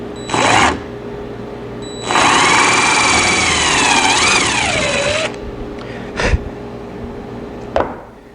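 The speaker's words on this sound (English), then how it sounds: "You can drill through it" A power drill whines in short bursts, then a longer high-pitched run that rises and falls in pitch as it bites through a Lexan plastic sheet, followed by brief spurts.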